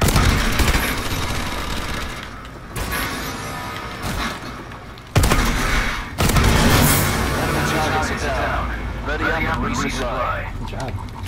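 Sentry gun firing in Call of Duty: Advanced Warfare Exo Survival, rapid automatic bursts mixed with booms and explosions, loud and continuous, with players talking over the gunfire throughout.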